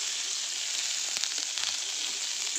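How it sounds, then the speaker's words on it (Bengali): Spices and turmeric frying in a pan make a steady, close hiss of sizzling oil that runs unbroken throughout, with a few faint soft clicks. "একটু ভেজে নেবো লাল লাল করে"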